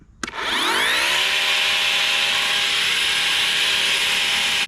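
A Nakita battery grass trimmer motor whirs up from a click and settles into a loud, steady high-pitched whine that runs unbroken and close, with no voices.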